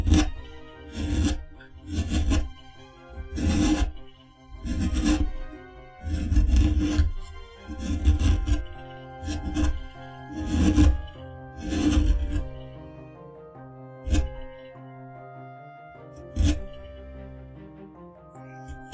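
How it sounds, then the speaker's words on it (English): A gouge carves wood with a steady run of about ten rhythmic rasping strokes, each a close, scraping rub, spaced evenly before thinning out to a few separate cuts near the end. "because I'm using a gouge here and I'm not that bothered about the depth of the cut"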